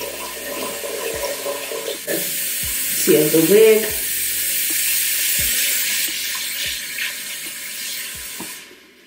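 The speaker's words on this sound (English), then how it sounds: "I'm just gonna fill my sink up" A bathroom sink fills from a running tap, a continuous close splashing rush of water with a few soft knocks, while a voice briefly speaks over it.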